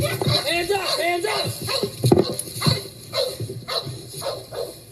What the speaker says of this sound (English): Yep, there's a dog.